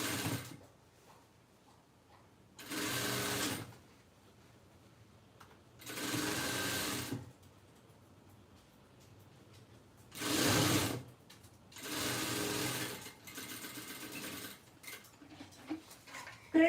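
A sewing machine stitches fabric for a reused-textile tote bag in four separate loud bursts, each lasting about a second, with quiet pauses between them and no talking.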